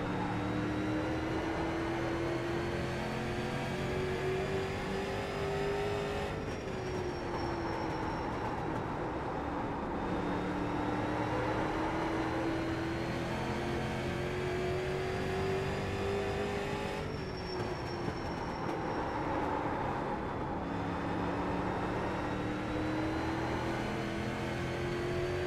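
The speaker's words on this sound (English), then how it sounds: "here's my fastest lap in the street stock at Thompson Speedway" Street stock race car engine in the iRacing sim at Thompson Speedway, droning steadily through a full hot lap with pitch rising on the straights and dipping into the corners twice, loud and continuous with no talk.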